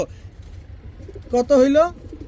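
Pigeons kept for sale at a bird market, one giving a short, close, throaty coo midway through under faint background murmur, with low rumbling noise beneath.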